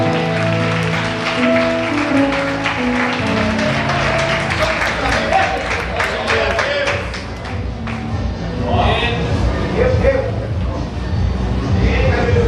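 An evangelical congregation gives a strong round of applause, rapid dense clapping under sustained music and voices, easing briefly before swelling again.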